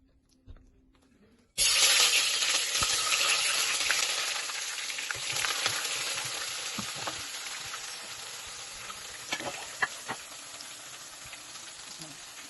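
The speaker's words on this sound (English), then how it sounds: "she's getting ready to put the onions in the oil" After a quiet start, onions drop into hot palm oil on a gas stove and burst into a loud, bright sizzle that slowly settles into a steady fry, with occasional pops and stirring clicks.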